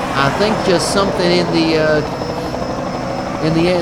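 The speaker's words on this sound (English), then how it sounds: "We're going to see it from the helicopter here." A helicopter's steady, loud rotor drone and engine hum at a stock car racing event fill the whole few seconds, with some voices underneath.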